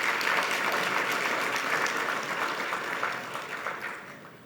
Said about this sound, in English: Another round of applause for the Excellency.